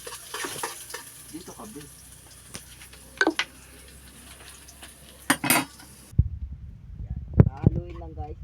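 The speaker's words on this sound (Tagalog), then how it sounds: "Haluin lang guys, haluin." Utensil scraping and stirring in a pan of sautéing food, with soft clinks and brief sizzle, short bursts of clatter amid light talk, ending in a quieter stretch with a voice.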